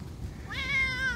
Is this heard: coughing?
no